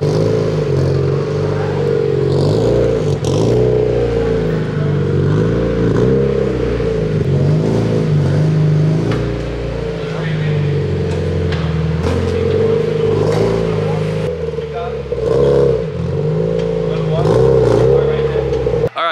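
A loud Nissan Neo VVL engine in an S14 revs hard on a dyno, rising and falling in repeated pulls with a raspy, throaty drone that stays constant throughout.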